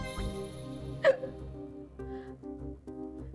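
A single sharp hiccup from a person in a Marathi TV drama scene, heard once near the start over soft background music.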